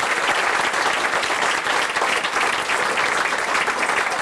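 Wedding reception guests clap loudly and steadily for the bridal party during the introductions, a dense, sustained round of applause that fills the room without a break.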